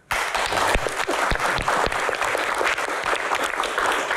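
Audience applause at a panel event, a dense, steady wash of many hands clapping that holds at full strength for about four seconds.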